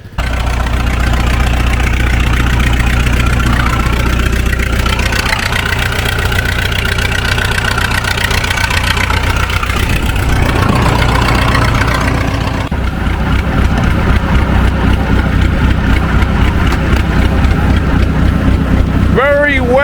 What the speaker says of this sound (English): we'll fire her up, get her warmed up, let her idle for a few minutes